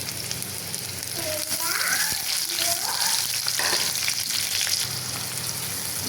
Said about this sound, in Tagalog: Yan, gigisa na tayo ng bawang